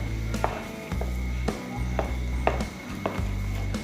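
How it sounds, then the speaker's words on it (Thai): Thick banana paste with black sesame being stirred in a pan, a spatula scraping and knocking against the pan in a steady rhythm of about one stroke every half second, close and fairly quiet, no talking. "อันนี้ก็จะกวนไปอีกหน่อยนะคะ ให้เป็นสีน้ำตาลเข้มหน่อย"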